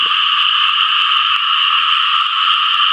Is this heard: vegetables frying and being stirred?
no